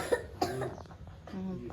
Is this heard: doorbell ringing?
no